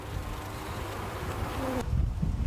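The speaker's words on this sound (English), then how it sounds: "A lot of bees in there" Dense, steady buzzing of many honeybees inside an open hive, close and continuous, with a slight shift in tone near the end.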